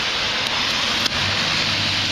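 Steady rain falls as a dense, loud broadband hiss that never lets up, with a couple of faint ticks as drops hit nearby.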